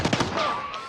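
A stun grenade goes off in a video game, a burst of sharp bangs and thumps followed by a sustained ringing tone that lingers to the end.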